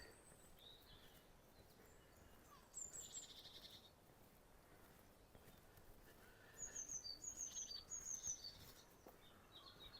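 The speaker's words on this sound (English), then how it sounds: "With noisy blue tits." Blue tits give short bursts of high, thin chattering calls, one brief burst early and a longer busier run later, over quiet outdoor background in Woody Bay, Isle of Wight, in April.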